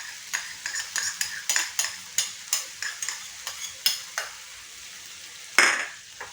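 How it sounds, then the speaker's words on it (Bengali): Garlic paste is stirred into onions frying in a pan for a green jackfruit curry, a steady run of rhythmic spoon scrapes over a soft sizzle, ending with one louder clatter. "এবার আমি একে একে এটার সঙ্গে যে রসুন পেস্টটা ছিল সেটা মিশিয়ে দেব।"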